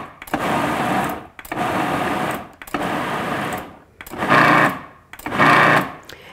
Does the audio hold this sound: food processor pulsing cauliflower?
yes